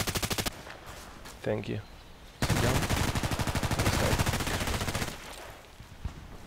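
Glock 17 pistol shots in the shooter game Contract Wars: close, sharp, rapid reports in quick rhythmic volleys, with a longer sustained stream in the middle and a brief word spoken early on.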